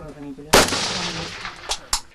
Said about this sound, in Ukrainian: Школярі виконують три одиночних постріли та дев'ять в автоматичному режимі.